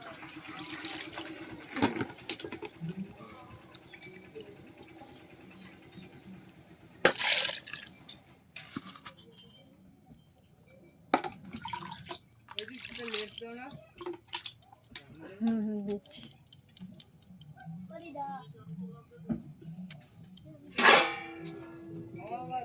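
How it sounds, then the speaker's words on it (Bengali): Hilsa fish pieces being washed in water by hand: splashing, dripping and brief pours come and go, with a person speaking intermittently over the watery sounds. "মাছটাকে আমার কাটা হয়ে গেছে বন্ধুরা এবার আমি মাছটাকে ধুয়ে নেবো"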